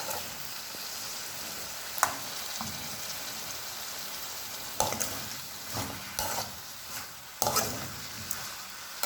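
Pepper chicken is mixed in a pan over a soft, steady sizzle, with sharp spoon scrapes and clacks against the pan at intervals, several bunched in the second half, and no talking.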